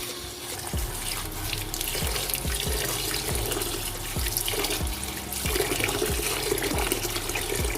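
Rice being washed for chicken biryani, water splashing and sloshing in a bowl with rhythmic knocking strokes, close and fairly quiet, no talking.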